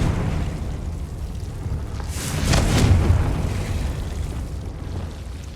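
A Confringo fire spell detonates in Hogwarts Legacy, a rumbling blast swelling over a low steady background, loud for about a second before fading back.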